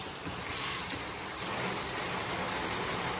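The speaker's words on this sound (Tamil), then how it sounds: "வெளியே வந்து பயங்கரமாக மழை பெஞ்சிட்ருக்கு." Heavy rain pours down outside as a dense, continuous hiss of drops on surfaces, steady and moderately loud with no voices over it.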